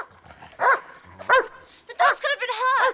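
A dog gives several sharp barks and yips in short bursts, loud and close, with a voice heard in between.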